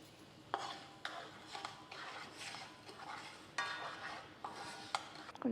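Semolina is stirred in a pan, with quiet rhythmic scrapes and light clinks of a spoon against metal over a faint sizzle, fairly close and without speech.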